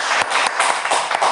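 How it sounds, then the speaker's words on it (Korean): A church congregation at a Wednesday service breaks into applause, many hands clapping in a brisk, fairly steady rhythm, close and filling the room. "우리 하나님께 영광의 박수"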